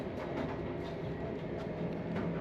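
A train running at over 200 km/h, heard from inside as a steady, fairly quiet rumble with faint rhythmic clicks over the rails, with no talk.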